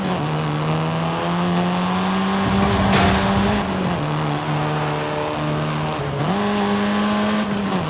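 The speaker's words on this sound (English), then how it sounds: "This version is the Volkswagen Golf R" A Volkswagen Golf R in Forza Horizon 5 drives hard, its steady engine drone stepping up and down through gear changes, with a sharp tire squeal and a hissing burst around mid-run.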